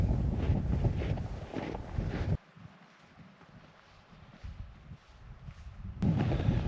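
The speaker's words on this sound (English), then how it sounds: "So wind is picking up." Strong wind roars and buffets a microphone at a winter campsite in Killarney Provincial Park, loud at first, then dropping to a softer rushing lull before surging back hard at the end.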